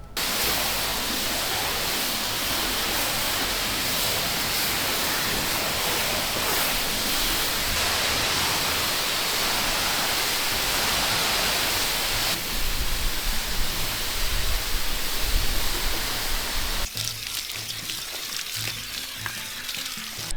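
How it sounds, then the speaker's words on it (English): Water from a hose rinses down a sandstone patio, a loud, steady broadband hiss and splash that continues unbroken for about twenty seconds, shifting a little in tone partway through as the spray moves. "Time to get rinsed down in readiness for putting some chemicals down."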